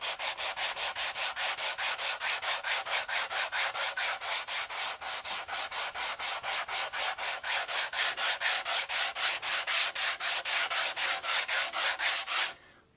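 Steady back-and-forth sanding strokes on a maple guitar body being prepared for finish, a fast, even rhythmic rasp that continues loudly and close for the whole stretch before stopping at the end.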